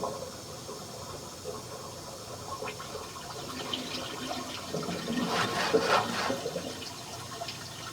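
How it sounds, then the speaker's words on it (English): A toilet in a house at 4163 Bedford Ave flushed once: a steady low rush of water that swells into a louder gushing surge near the end, heard up close with no talk. "Can you flush it one time?"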